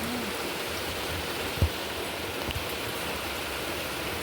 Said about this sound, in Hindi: देखिए बारिश बहुत ज़ोरदार हो रही है।